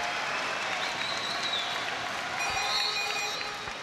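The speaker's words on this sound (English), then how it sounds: "The crowd's getting into it." Loud arena crowd at a men's professional basketball game in New Zealand claps and cheers steadily, with sneaker squeaks and whistling tones cutting through the sustained roar.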